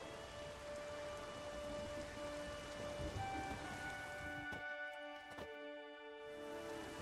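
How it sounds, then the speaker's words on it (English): Steady rainfall in The Witcher 3: Wild Hunt, a continuous hiss of drops with a low rumble of distant thunder beneath, no voices over it. "There's no point standing here in the rain."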